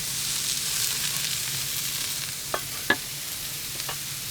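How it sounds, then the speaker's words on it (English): Garlic and shallots sizzling in a pan while a smashburger is prepared: a constant close, hissing fry, broken by a few quick spatula taps and one sharper clack midway. "I'm gonna put my aromatics, so I have my garlic and the shallots."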